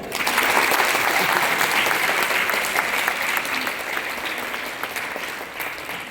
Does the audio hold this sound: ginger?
no